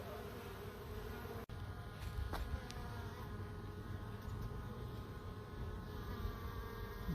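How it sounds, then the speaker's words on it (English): Honeybees from a 3 lb package hum steadily around a newly installed hive, a close, continuous buzz with no voices, and a brief tap breaks in early on. "So we have mortician bees there bringing out the dead ones"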